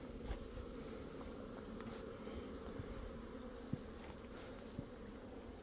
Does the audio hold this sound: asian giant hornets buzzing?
yes